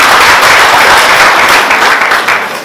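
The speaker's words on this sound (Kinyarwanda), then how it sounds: "Muri iki kiganza tugushimire n'amashyi menshi cyane." Loud, close applause from wedding guests at a Rwandan ceremony, sustained clapping that holds strong before easing slightly toward the end, with no talking over it.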